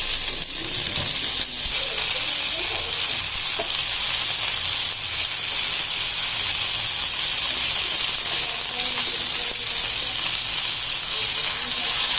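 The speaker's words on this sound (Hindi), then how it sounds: "जो पोटल रखी थी पोटल को फ्राई करना" Whole pointed gourds (parwal) fry in hot oil in a pan, giving a loud, steady, continuous sizzle and hiss that runs unbroken throughout with faint stirring beneath.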